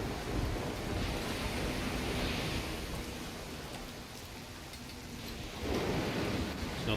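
A heavy rainstorm in the video game Risen 2: Dark Waters, with a steady broadband wash of rain throughout and low rumbling swells of thunder early on and again near the end. No voices.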